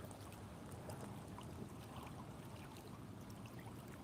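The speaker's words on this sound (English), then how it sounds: "we'll get you guys the water sound" Lake water gently lapping at a shore running several feet below normal level at sunset, a steady soft wash and trickle with light wind noise, close by and continuous, no voices.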